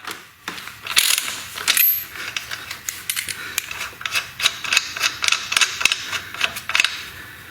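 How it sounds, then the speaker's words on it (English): A ratchet with a 22mm socket works the main axle nut off a motorcycle's front wheel, giving rapid close clicking bursts and a few metallic taps, with no talking. "with a 22mm socket, I'm going to remove the main axle nut"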